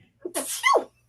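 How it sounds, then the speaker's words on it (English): A single sharp human sneeze, a brief intake followed by a loud explosive burst, close and alone against near silence. "Gesundheit"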